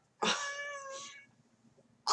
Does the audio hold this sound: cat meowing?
yes